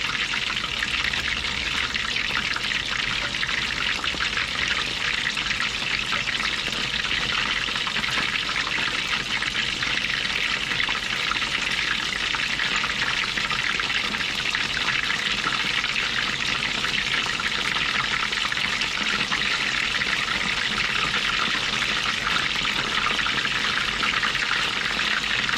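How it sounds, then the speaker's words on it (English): Chicken wings frying in hot oil in a cast iron pot, a steady dense sizzle and crackle holding even and close throughout, with no talk over it. "So for this case, we're frying chicken wings"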